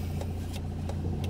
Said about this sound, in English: take the Toyota Corolla around the parking lot